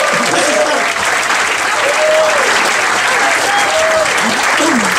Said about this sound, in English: Come on, give a hand here.